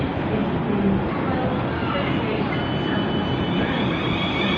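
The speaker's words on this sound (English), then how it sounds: "here we have the 458 Juniper set working the service to Staines. And I think this train will about be ready to depart" A Class 458 Juniper electric multiple unit on the Staines service pulls away from Clapham Junction, a broad, steady rumble and hum that holds loud and even throughout, with faint talk underneath.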